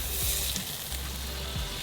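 Butter sizzling in a hot pan for sherry cream mussels, a soft continuous hiss with a couple of faint clinks, fairly quiet and close.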